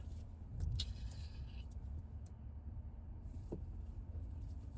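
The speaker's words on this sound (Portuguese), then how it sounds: "Estacionando o carro aqui agora." A car is being parked: a quiet engine idles low and steady, with a few soft clicks and mechanical thumps, and no speech.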